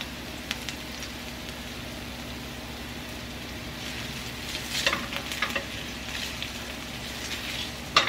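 Ginger sizzles and fries in butter in a pan, a steady soft crackle throughout with a few sharper stirring scrapes and spatters toward the end.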